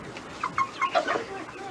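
Chickens cluck close by in a short burst of several choppy, nasal calls, with faint background noise and no clear talk over them.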